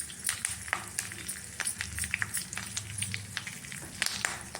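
Urad dal, fenugreek, cumin and curry leaves crackle and spit in hot oil for a sambar tempering, a dense run of sharp close pops over a continuous sizzle.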